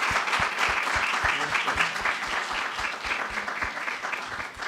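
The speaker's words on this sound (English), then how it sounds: "Let's give our Vice President a round of applause." An audience at a meeting of the Vice President with HBCU journalists bursts into sustained applause, a dense wash of many hands with a few sharp claps standing out, steady and fairly loud for the whole stretch.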